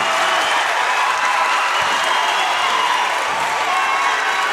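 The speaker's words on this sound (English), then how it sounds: "The Sailfish fans on their feet here inside Rubin Arena, trying to cheer on their side" Sailfish fans on their feet inside Rubin Arena at an NCAA volleyball tournament match, a loud, dense roar of cheering and applause that holds steady throughout with no break.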